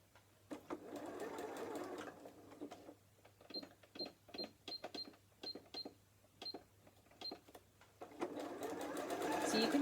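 A sewing machine stitches a narrow zigzag at 0.5 width in quick rhythmic bursts, stopping and starting between runs, with a steadier whirring stretch at the start and end, close and clear.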